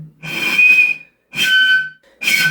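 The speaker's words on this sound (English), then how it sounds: "so that's the natural frequency of the bottle" Three breathy whistle tones made by blowing across a glass bottle at its natural frequency, each lasting under a second with a soft hiss of air, separated by short pauses and heard up close.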